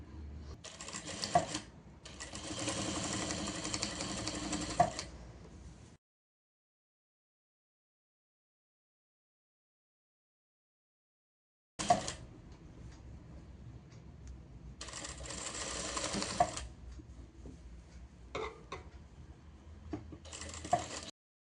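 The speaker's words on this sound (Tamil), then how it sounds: "கீழே இருக்க துணி மேலே இருக்க துணி ரெண்டுத்தையும் ஒன்றா சேர்த்து அப்படியே பிடிச்சி தைக்க வேண்டியதான்" A sewing machine fitted with a P5 presser foot stitches a frock frill in bursts of rapid mechanical whirring, with a long silent gap in the middle before several more short runs.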